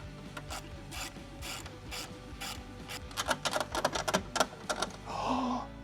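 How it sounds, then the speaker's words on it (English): A wrench ratchets against a nut on a countersunk screw, fastening a tailgate table to a 2018+ Jeep Wrangler JL, with soft clicks that quicken into a dense, closer burst of ratcheting before a brief scrape. "then we reach on the backside with a wrench"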